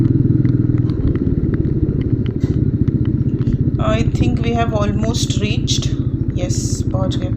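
A motorcycle ridden through heavy rain, its engine chugging steadily and loudly up close for the whole stretch, with a voice talking over the ride midway.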